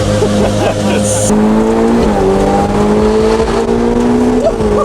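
Turbocharged Ferrari 488 Pista with straight pipes, loud continuous engine roar with rising and shifting tones as it accelerates through corners, heard from inside the car.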